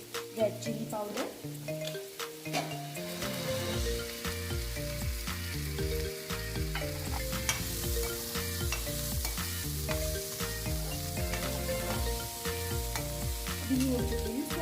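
Ingredients for rava appe sautéed in a pan, a steady sizzle with stirring scrapes running throughout, held under a constant tonal musical backdrop.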